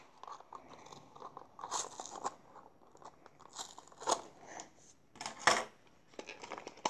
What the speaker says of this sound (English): I'm just gonna wing it with scissors.